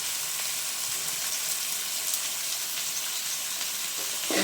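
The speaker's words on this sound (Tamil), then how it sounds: "தக்காளி வெங்காயம் நல்லா வதங்கட்டும்." Chopped tomatoes and onions with a little rock salt sautéing in a pan, a steady close sizzle and hiss running evenly throughout with no voices.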